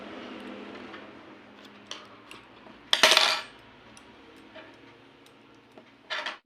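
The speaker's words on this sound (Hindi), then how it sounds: "ये धागा को हम काट देंगे।" Scissors cut crochet thread with one sharp, close metallic snip, followed later by a second softer click, over faint background hiss.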